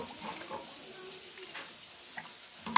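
Food sizzles and fries in a pan, a soft, steady crackle running throughout and close by, with a clatter at the end.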